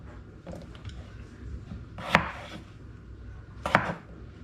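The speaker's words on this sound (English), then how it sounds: "Now I'm going to chop my potatoes." Potatoes being cut into chunks with a knife for a slow-cooked gammon and vegetable dish, two sharp chopping strikes on a board standing out from a quiet kitchen background.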